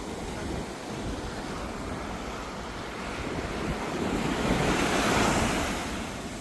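Ocean waves surge and wash continuously off a Royal Caribbean cruise ship, Liberty of the Seas, in the Bahamas, forming a broad roar with wind buffeting the microphone that swells louder toward the end.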